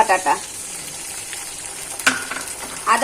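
Ginger paste and grated coconut fry in a pan for banana flower ghonto, producing a low hiss punctuated by a few louder spatula scrapes at the start, middle and end, with a voice briefly audible.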